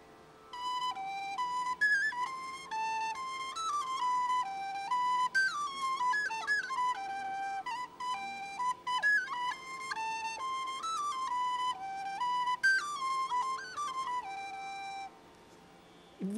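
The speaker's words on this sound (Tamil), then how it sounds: "டின் விசில் என்ற இப்புல்லாங்குழல் ஒலிக்கும்." A tin whistle plays a lively folk tune alone, a bright, clear melody of quick stepping notes and short trills held at a steady, moderate volume for the whole stretch, with no voices.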